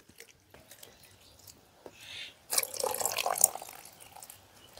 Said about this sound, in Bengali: তো ভালো করে জলটা দিয়ে শাকটা ভালো করে ধুয়ে নিচ্ছি আমি।